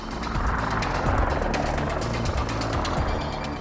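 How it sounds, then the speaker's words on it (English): A Westland Lynx attack helicopter close by, its rotor blades thumping in a rapid steady chop over a heavy engine roar. "The 847 Squadron's attack helicopter is the Westland Lynx"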